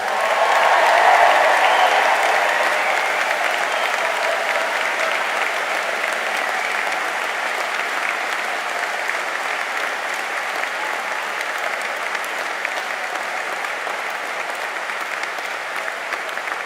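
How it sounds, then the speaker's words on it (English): Graduation ceremony audience at Liverpool University applauding and cheering the new class of 2025 graduates at a degree congregation; sustained, dense hall applause swelling at the start then holding steady throughout. "I think the biggest cheer Has to be for our new graduates, the class of 2025."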